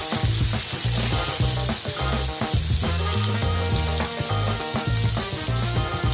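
Boiled potatoes frying in hot oil in a pan, a loud continuous sizzle with sharp crackles and spitting throughout, close by and without talk.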